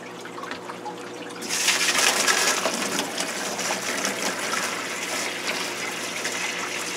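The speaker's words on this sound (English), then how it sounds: "Now I'm going to use a siphon hose." Water rushing steadily through an open siphon hose drawing from an aquarium, starting suddenly and continuing as a gushing flow.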